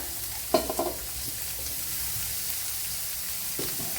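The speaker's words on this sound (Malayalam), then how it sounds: "ക്യാരറ്റും സവാള അരിഞ്ഞതും കൂടെ ഇട്ട് കൊടുക്കാം" Carrot and chopped onion fry in a pan with a low steady sizzle, a brief clatter of the spoon near the start and another stir toward the end, close and quiet.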